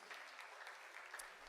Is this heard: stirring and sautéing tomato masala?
no